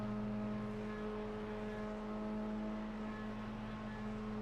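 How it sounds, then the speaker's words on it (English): F4 race car engines idle and rev on the Silverstone grid, a steady loud drone with strong low harmonics and slight pitch swells throughout, several engines blending together with no talk. "Either people are burning off some excess fuel or just like to hear the sound of the F4 engine roar"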